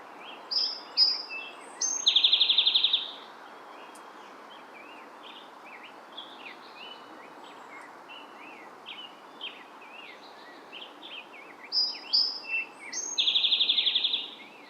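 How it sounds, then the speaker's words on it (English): Birds singing outdoors in a quiet setting in Oregon: bright chirps and trills come in bursts, with longer pauses of softer calls between them. "I'm going to show you some birds. So just enjoy this."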